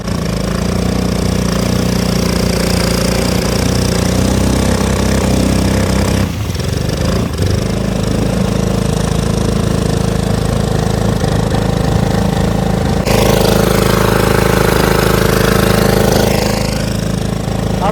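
A Beaverdam mud motor kit with a 7.5 hp Wildcat 223cc engine runs steadily and loudly, a continuous droning engine note that shifts partway through as the throttle changes, with no voices.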